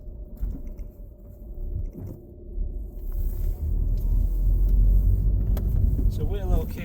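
Interior rumble of a 2005 Volkswagen Golf 2.0 TDI GT DSG, a 168k-mile diesel hatchback, rolling over bumps, with low-frequency thumps and road noise building steadily, faint voice in the background.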